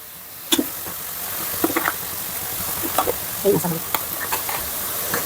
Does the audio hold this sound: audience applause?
no